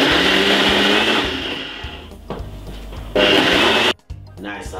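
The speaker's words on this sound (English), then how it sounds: "cover and blend this about 3 to 4 minutes" A Ninja blender blending a smoothie whirs loudly and steadily, its motor pitch shifting a few times, then cuts off abruptly near the end.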